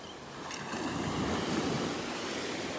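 Steady surf rolls and washes onto a beach at North Naples, Florida, a continuous broad roar of waves close by with light wind noise and no voices.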